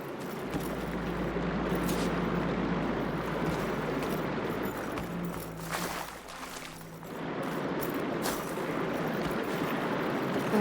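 Water rushes back into a room in Horizon Forbidden West as a constant broadband wash of flowing, surging water, dipping briefly midway before swelling again, fairly quiet and with no speech over it.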